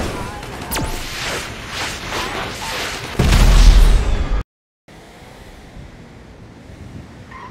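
Weapons fire from a modded vehicle in GTA 5 comes as a loud, rumbling burst over a rushing, wind-like roar. It cuts out abruptly, then gives way to a quieter wash of noise.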